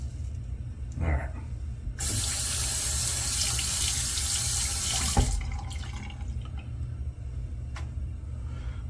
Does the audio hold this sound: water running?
yes